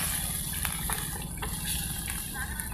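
A steady stream of water pours into a cooking pot, a constant rushing splash with a few faint knocks underneath.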